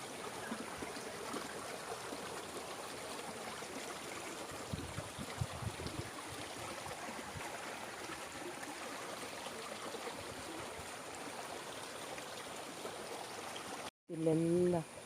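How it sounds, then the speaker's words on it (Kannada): A shallow stream of water flows at a low, steady level as a soft, continuous burble and hiss throughout. At the very end it is cut off briefly and a short louder tonal sound follows. "ಇಲ್ಲೆಲ್ಲ ನೀರು ಹೋಗ್ತಾ ಉಂಟು, ಆದರೆ ಕಡಿಮೆ, ತುಂಬಾ ಕಡಿಮೆ ನೀರು."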